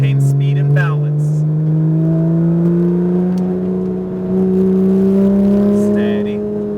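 A Porsche 991 GT3 RS on a race track at Speed Vegas, its engine droning loud and close as the revs climb steadily, with brief voice fragments over the roar.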